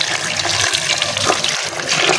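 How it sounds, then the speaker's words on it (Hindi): Water pours steadily into a small tub of pure red dirt with stones in it, a continuous close splashing and trickling wash with no voices. "मैं इसके अंदर अच्छा खासा पानी पोर कर देती हूँ ताकि ये बिल्कुल डिप हो जाए।"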